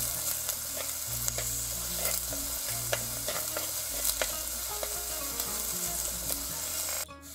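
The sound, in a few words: frying garlic, shallots and ginger with fenugreek in pan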